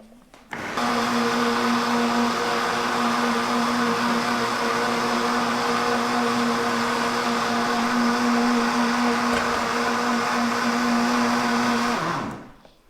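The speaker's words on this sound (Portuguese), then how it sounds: "E depois a gente completa e termina de bater." An electric blender whirs at full power while blending homemade plant milk, a loud, steady, motorized roar that starts abruptly, holds evenly for about eleven seconds, then winds down.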